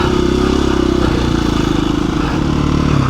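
KTM 350 EXC-f dual sport motorcycle ridden slowly on a warm day, a close, loud, steady engine putter with a low throbbing pulse and slight shifts in revs.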